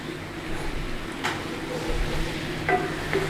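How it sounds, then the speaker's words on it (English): Pan deglazed after searing pork steaks: a soft, steady sizzle and bubbling with light scraping, fairly close, plus a couple of brief clinks of a utensil against the pan near the end. "that's deglazing all that pan of all that goodness that was on the bottom from when we cooked the pork steaks"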